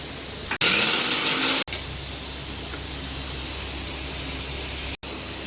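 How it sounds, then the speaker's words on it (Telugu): A mixer grinder whirs loudly and steadily as it grinds fried mutton spices into a fine powder, with a brief stop and restart midway and another short break near the end. "ఇప్పుడు ఇది ఫైన్ పౌడర్ కింద మిక్సీ చేసుకోవాలి"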